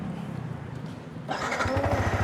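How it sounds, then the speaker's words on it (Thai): A Yamaha XSR motorcycle with a stock exhaust fires up on the first try without throttle. A brief crank catches into a steady, close, rhythmic idle that follows a quiet stretch. "สตาร์ทให้ดูคันแรกเลยสดขนาดไหนนะฮะ"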